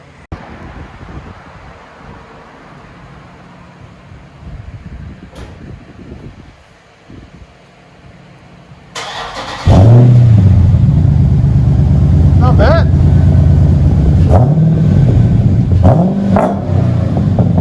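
2017 Dodge Charger 6.4L Scat Pack with dual exhaust and Vibrant resonators, mufflers removed, idling low before it starts and revs in several loud, deep swells close by; a voice speaks briefly.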